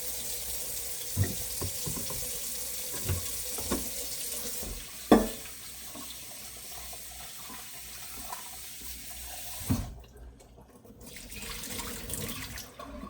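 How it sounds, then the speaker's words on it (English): Tap water runs into a sink while vegetables are washed for a Jamaican meal, a steady close hiss of flowing water with a few soft knocks and clunks and one brief pause near the end, no talking. "So I'm going to wash these veggies."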